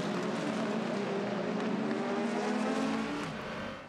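Race cars at an endurance race at Imola, 2024 European Le Mans Series, roar steadily and loudly past, their engine drone sustained throughout with no speech over it.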